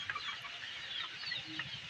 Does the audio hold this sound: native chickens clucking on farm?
yes